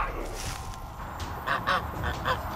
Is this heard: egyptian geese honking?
yes